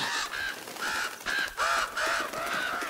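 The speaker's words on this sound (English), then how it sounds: "Don't mess with me, stupid crows." Crows caw repeatedly in Uncharted: Drake's Fortune, a loud, rhythmic series of harsh calls close by with no talking.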